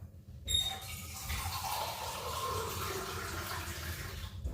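Water pouring steadily into a container while measuring 320 ml for a homemade bake, a continuous soft rushing stream lasting several seconds, close and quiet, with no talk.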